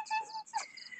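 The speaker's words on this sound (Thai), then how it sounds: "มีจิ้งหรีดอยู่ตรงเนี้ยตรงที่จัดสวนใหม่" Crickets chirp at night in a newly landscaped home garden, a thin, high, continuous trilling with faint overlapping calls. It is quiet and steady over a short stretch, with no voices.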